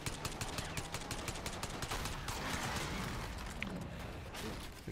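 Rapid bursts of automatic gunfire in Black Ops 6 as a limo comes down a street, dense and steady throughout, fairly loud with no talk over it.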